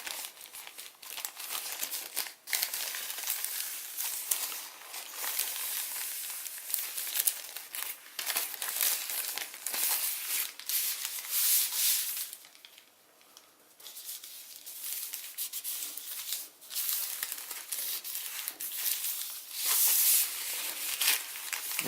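Continuous close crinkling and crumpling of origami paper as it is valley folded for a Pegasus model, steady rustle with brief pauses, no talking.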